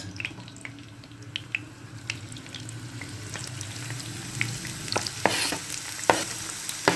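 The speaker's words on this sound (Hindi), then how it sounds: "ये हमने 1 प्याली ऑयल डाला इसमें। ये जा रहा है प्याज" Chopped onion frying in about a cup of hot oil for a spiced goat-brain masala fry, a steady sizzle with occasional sharper crackles and a few spoon clinks growing busier toward the end, no voices.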